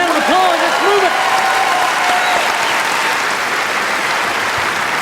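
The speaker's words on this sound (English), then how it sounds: "Round of applause." Sustained, dense applause from a studio audience at a television comedy panel show, loud and steady throughout, with a host's voice briefly heard over the opening seconds.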